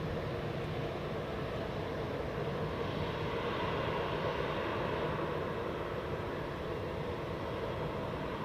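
A Boeing 777 takes off at Zurich Airport, giving off a fairly distant, steady jet engine rumble that stays even and continuous throughout, with no speech over it.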